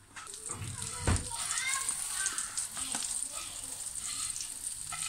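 Steady sizzling of kadaif dough frying in butter in a pan over medium heat, with stirring scrapes and a soft thump early on, continuing throughout.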